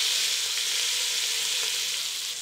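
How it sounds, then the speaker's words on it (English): Continuous loud sizzling and crackling of beef short ribs searing in hot oil, steady and close with no talking. "Hear that sizzle."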